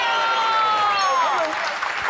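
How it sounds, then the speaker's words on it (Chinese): Applause from a young audience at a children's team game show in a studio, a dense steady clapping wash lasting a couple of seconds with high musical tones sliding over it. "掌声鼓励！"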